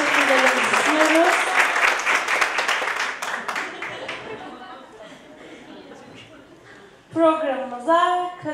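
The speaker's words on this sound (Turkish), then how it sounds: "Hadi hala alkış istiyoruz" An audience at a hospital maternity unit presentation breaks into applause that starts loud and fades out over several seconds, with a voice speaking over the start and again after it dies away.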